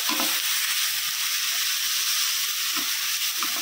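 Rice, drained of its water, fries in a pan for pilaf, giving a steady close sizzle with occasional scraping stirs.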